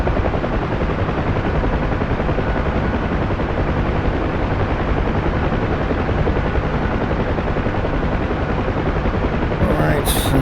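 Dense, continuous rotor thump and turbine roar of a simulated UH-1H Huey helicopter setting down on a hospital helipad in DCS, loud and unbroken throughout, with a brief extra noise near the end.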